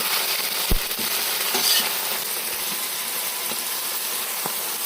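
Wasp larvae fry in hot oil with a continuous, even sizzle, marked by occasional soft clicks and knocks from the pan and utensil.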